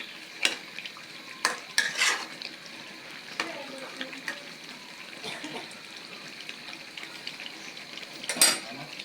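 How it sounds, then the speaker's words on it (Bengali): Beef curry is stirred and braised in a pot with splashes of water: intermittent spoon scrapes and clinks against the metal ring out over a low simmering sizzle, close by and moderately loud. "তো গোশটা দেখুন আমি কষাচ্ছি পানি দিয়ে দিয়ে"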